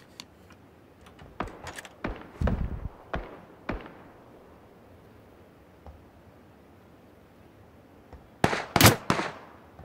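Gunshots in PUBG: a few sharp, scattered cracks early on, then a tight cluster of loud shots near the end, with quiet game ambience between.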